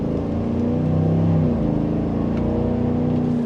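A 2025 GMC Sierra AT4X pickup accelerates in sport mode on the road, its engine note rising loudly and then shifting pitch as a gear change comes through, heard from inside the cabin.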